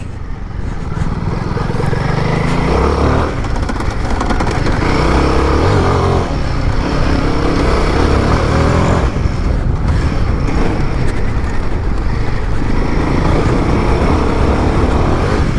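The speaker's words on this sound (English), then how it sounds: "Very capable little bike." A Royal Enfield Himalayan 450 motorcycle ridden hard on an expert off-road trail at an adventure bike festival in the UK, its engine droning loudly and continuously with rising and falling revs and rough, wind-buffeted noise close to the rider.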